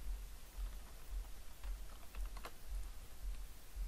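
Soft typing on a computer keyboard while entering text into a Microsoft Access database, with faint scattered key clicks over a low hum, close and quiet.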